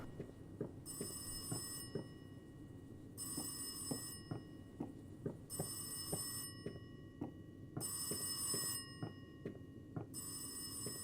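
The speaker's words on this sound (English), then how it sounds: "I hear the phone ringing again." Telephone in the horror video game Rise of Insanity rings in repeated bursts of bright electric bell trills, five rings evenly spaced over a low steady background with faint ticking, without any talk.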